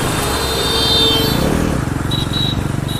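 Bajaj Pulsar NS400Z sport bike with a 400cc engine under throttle, a close, steady motorcycle engine drone that rises briefly and then settles into a pulsing idle-like putter, with no talk over it.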